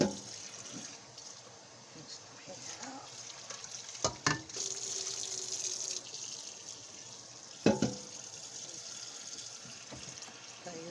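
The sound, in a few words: water poured into a strainer in the kitchen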